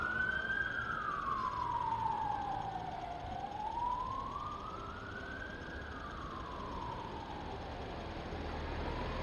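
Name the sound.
ambulance siren passing on a city street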